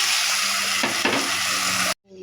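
Canned sardines frying in a pan while cooking miswa with patola, a loud close steady sizzle with a couple of stirring scrapes, cut off abruptly at the end.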